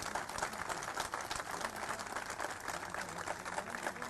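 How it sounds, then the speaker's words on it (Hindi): An audience applauds at an airport naming ceremony in Hisar, a dense, steady crackle of many hands clapping that carries on without a break. "जोर से तालियां नहीं बजाओगे तो मैं यही बात करता।"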